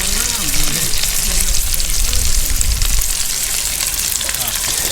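Onions fry on an outdoor barbecue alongside lamb kebabs, giving a loud, continuous close-up sizzle and crackle that stays even throughout the clip.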